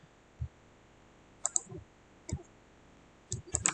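Computer keyboard keys are pressed during PCB design work in KiCad, a few sparse, faint clicks scattered across quiet room noise, ending in a quick cluster of taps.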